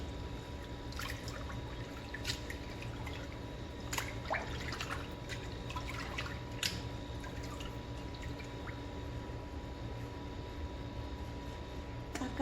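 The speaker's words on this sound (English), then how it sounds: "it sounds like water's going down the drain" Water from a kitchen sink tap runs down the drain while muscadine grapes are rinsed, a faint, steady trickle with scattered small drips and splashes throughout.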